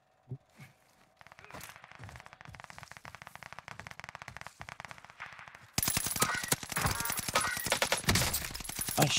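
Fast bursts of automatic gunfire in a Warzone match, a quieter distant rattle at first, then much louder close rapid shots from about halfway on, with no voices.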